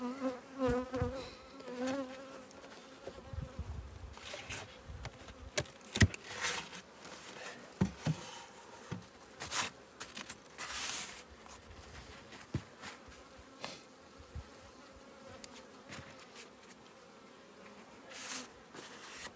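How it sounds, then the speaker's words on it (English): Honeybees buzz steadily up close in a freshly split hive, with scattered clicks, taps and rustling as they move around. "So the bees are trying to get out"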